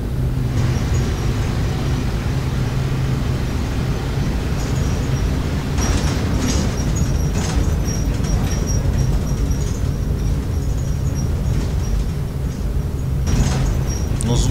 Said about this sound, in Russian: Но звуки, все очень качественно сделано у этого автобуса.